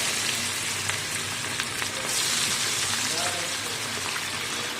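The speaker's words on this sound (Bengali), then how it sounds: "এখানে তেল গরম হয়ে গেছে, দেখতেই পাচ্ছেন। এখানে তেলে আমি ছেড়ে দিচ্ছি। এটা হচ্ছে গ্রিন কাবাব।" Green kebab pieces frying in hot oil, a steady dense sizzle and crackle that holds throughout, swelling slightly midway, with a person talking over it.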